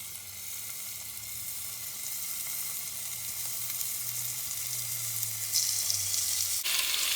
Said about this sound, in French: Vous allez attendre que l'huile soit bien chaude pour que la viande soit saisie.